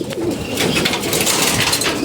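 A sick pigeon coos steadily and close by, the low, throaty murmur running without pause through the whole short stretch.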